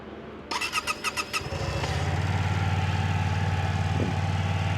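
A manual-transmission motorcycle engine cranks with a few rapid clicks, catches, and settles into a loud, steady rumbling idle close by, with a brief blip near the end.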